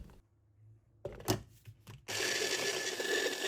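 Electric kitchen blender crushing 250 grams of biscuits into crumbs for a cheesecake base: a few short grinding bursts, then a loud, steady whirring roar that runs close-up to the end.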